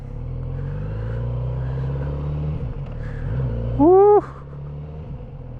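A Kawasaki Z900RS motorcycle on a test ride, its engine rumbling steadily up close and then surging in a brief rising rev. A rider's shout of excitement is heard over it.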